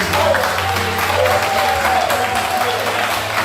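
A congregation at a Bible meeting in Ducos, Martinique, applauds loudly and steadily, a dense wash of clapping with voices mixed in.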